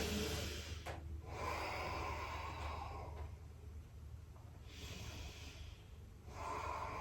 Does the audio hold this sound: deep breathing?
yes